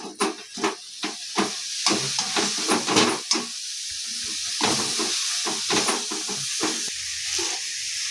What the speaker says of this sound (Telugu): అంత గోంగూర ఎంత కొంచెం అయిందో చూడండి. నూనెలో 2 నిమిషాలు వేయించుదాము.